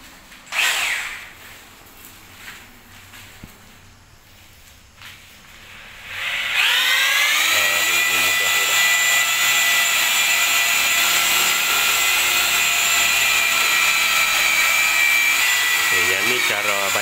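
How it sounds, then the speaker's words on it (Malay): An ordinary electric drill fitted with a paddle mixer stirs cement adhesive and milk for laying mosaic tiles, spinning up with a loud steady whine that runs on after a brief quieter stretch of handling and a voice. "Mata untuk kacau semen tu. Okey, masuk ke drill biasa lah."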